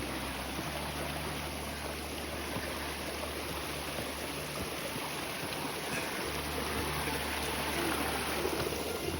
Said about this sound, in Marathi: बघू शकता पाण्याचा आवाज, कलकल कलकल पाणी आवाज येत आहे.